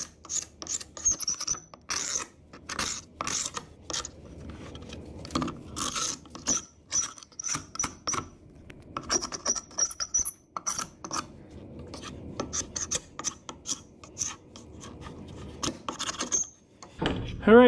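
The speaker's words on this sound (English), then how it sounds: "I'm going to take my scraper and I'm just going to scrape up and down the wood and work these beads" A scraper drawn up and down a wooden slab door to lift dried glue beads, giving repeated short rasping strokes in uneven bursts, close and fairly quiet.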